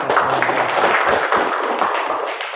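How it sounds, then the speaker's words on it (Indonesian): Applause from an eleventh-grade social studies class for a student group, a dense, steady wash of many hands clapping at once, fairly close and continuous before tapering slightly at the end, with no talking. "Tepuk tangan dulu buat kelompok 1"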